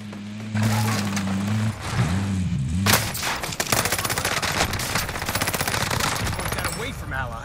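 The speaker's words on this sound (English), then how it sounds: "taking heavy fire" Heavy gunfire in a video game, with rapid automatic bursts and sharp cracks that keep going loud and close after a brief low droning tone at the start.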